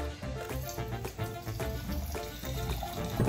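Water pours steadily into a Santa Claus mug holding instant coffee, a continuous close splashing fill without talk.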